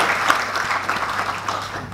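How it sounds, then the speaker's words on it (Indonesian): A crowd at a youth seminar applauds for the Indonesian president, a brief, moderately loud wash of clapping with no talk over it. "Tepuk tangan kita untuk presiden kita."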